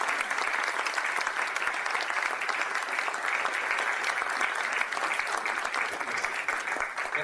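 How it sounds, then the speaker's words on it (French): Sustained applause from a conference audience after a debate talk with Pascal Boniface, a dense, steady clapping that stays loud and even throughout with no pauses. "je pense qu'on peut vous applaudir"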